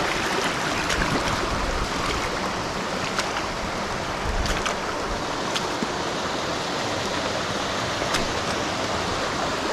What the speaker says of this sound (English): Oh, there's Raider Falls.